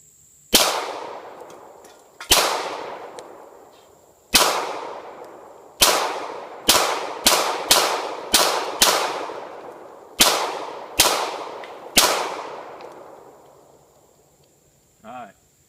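Beretta 96A1 pistol fired in a steady string of about eleven sharp, loud close-range shots, each with a ringing decay; the spacing is irregular, some shots in quick pairs and others a second or two apart.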